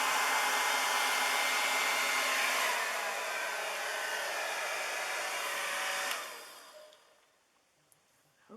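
A hair dryer blows steadily and fairly loudly over poured acrylic paint on a Dutch pour, its airflow holding an even roar for about six seconds before cutting off and fading to near silence.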